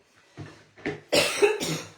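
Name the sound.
cough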